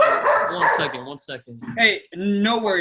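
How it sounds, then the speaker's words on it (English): Dogs bark and yip in the background of a room, several sharp barks scattered through the clip while someone talks over them. "I apologize for the dogs."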